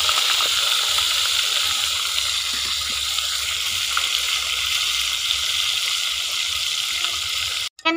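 Continuous loud hiss and crackle of tilapia frying in hot oil, with scattered pops, close up, cutting off abruptly at the end.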